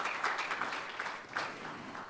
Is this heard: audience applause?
yes